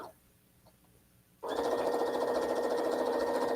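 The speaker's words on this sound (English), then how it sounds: "I'm going to sew a seam a 1/4-inch away from that line" A sewing machine stitching a quarter-inch seam starts up abruptly after a quiet moment with faint handling, then runs in a loud, steady, rapid whir to the end.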